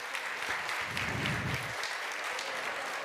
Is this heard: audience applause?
yes